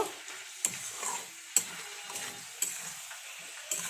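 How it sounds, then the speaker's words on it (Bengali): Soybean chunks and potatoes sautéing in a pan give a soft crackle, broken by four sharp clinks of a spatula against the pan at roughly even intervals. "এই দেখো সোয়াবিন আর আলুগুলো দিয়ে দিয়েছি, দিয়ে আরেকটু কষিয়ে নিব"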